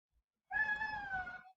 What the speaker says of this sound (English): there's the cats wanting attention